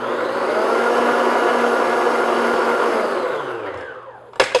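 Electric hand mixer beating an egg, sugar and vanilla extract mixture for a cranberry Christmas cake, a loud steady whirring drone that runs unbroken for about four seconds, then winds down and clatters to a stop.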